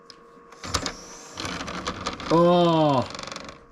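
A PlayStation 2 disc drive tray grinds and whirs open with a harsh, strained mechanical rise and falling motor whine, close and loud, with a brief exclamation from a person just before.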